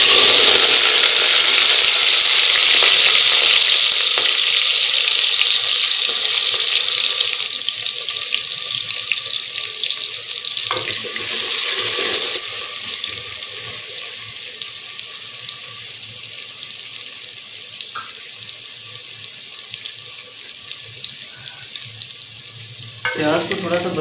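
Three medium onions, finely chopped, go into hot ghee for a Punjabi chicken pulao and sizzle loudly at first, then the hiss settles into a softer, steady fry with occasional stirring clicks.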